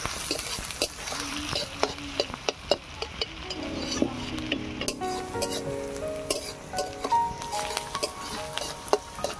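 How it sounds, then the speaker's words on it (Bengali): Onions fry in a pan until reddish-brown, giving a steady sizzle broken by frequent sharp clinks and scrapes of a spatula stirring against the metal; close and fairly loud, with no talking. "পেঁয়াজটাকে লাল লাল করে ভেজে নেব।"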